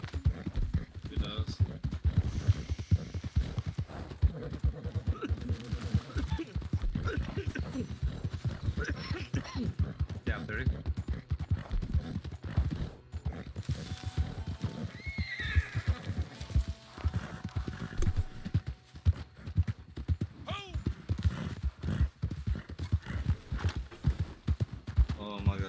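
Horse hooves clip-clop steadily in Red Dead Redemption 2, with occasional neighing, under near-constant talking.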